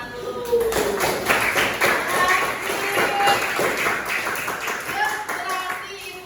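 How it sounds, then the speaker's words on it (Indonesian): A school class claps together in a dense, sustained burst of many hands lasting several seconds, close and fairly loud, with some voices mixed in. "Berikan tepuk tangan dulu."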